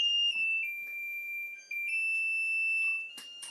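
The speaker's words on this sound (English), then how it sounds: "Let's turn off the timer." A kitchen timer alarm sounds during a cooking session with spaghetti squash under the broiler: a steady, piercing electronic tone that holds for about three seconds with brief pitch shifts, then cuts off with a short clatter at the end.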